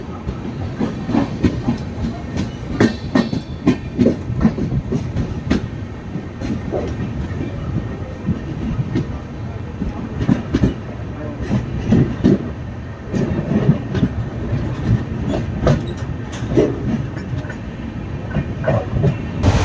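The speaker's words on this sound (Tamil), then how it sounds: "குளித்தலை ஸ்டேஷன்லேருந்து ட்ரெயின் டிபார்ட் ஆகிடுச்சிங்க" An express train rumbles along the rails close by, with continuous clattering of wheels over track joints and a steady roar that holds throughout.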